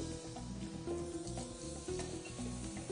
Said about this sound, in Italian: li mettiamo così senza niente dentro in una pentola e li facciamo cuocere un pochino e li strapazziamo anche un po'